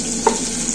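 Green chillies fry in oil with onions in a pan, a brief steady sizzle with a single soft stir or scrape in the middle, heard alone.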